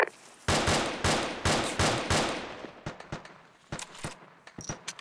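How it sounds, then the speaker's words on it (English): Gunfire in a multiplayer shooter, heavy rapid bursts of shots at first, then thinning into scattered, quieter single shots, no talk over it. "They're shooting me in the back"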